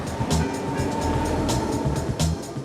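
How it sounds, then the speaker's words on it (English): A Singapore subway train arrives at an automated station, a loud rumbling roar with rhythmic clacking of the wheels, close by and with no voices. "Oh, when do you think my train will arrive?"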